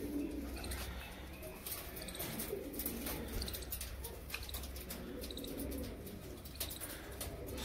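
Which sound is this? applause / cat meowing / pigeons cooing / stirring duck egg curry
pigeons cooing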